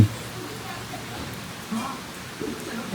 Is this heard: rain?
yes